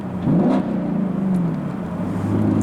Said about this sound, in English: Gotta rev it up so you know I passed him.